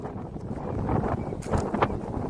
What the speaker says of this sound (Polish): Mam nadzieję, że będzie słychać, bo trochę wiatr wieje.